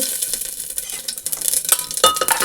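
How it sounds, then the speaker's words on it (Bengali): Cumin seeds and dried red chillies crackle and sizzle in hot oil for a lentil dish tempering, with a close, busy spitting hiss and a few clinks of a stirring utensil. "ডালিয়ার জন্য জিরা আর শুকনো লঙ্কা নিয়েছি এই দুটো দেব ফোড়ন"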